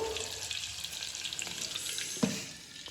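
Curry leaves crackle and sizzle in hot tempering oil inside a clay pot, a busy steady frying hiss with one sharper pop near the end.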